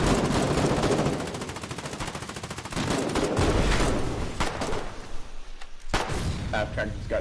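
Frontline gunfire in the war game Foxhole, with a dense stream of rapid automatic shots followed by heavy booming blasts and scattered further shots.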